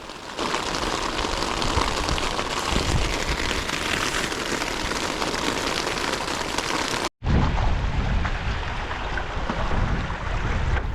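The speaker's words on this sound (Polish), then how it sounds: "W nocy dopada mnie burza z ulewu." Night thunderstorm with a heavy downpour drumming on a catamaran on a Finnish lake, a dense, continuous hiss of rain and wind that cuts out for an instant and then resumes just as strong.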